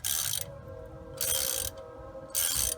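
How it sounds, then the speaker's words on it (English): Ratchet turning a tap or bolt to chase damaged lug threads in a BMW wheel hub, giving three bursts of fast, close clicking with quieter pauses between. "Now all I'm doing, I guess, is I'm chasing the threads."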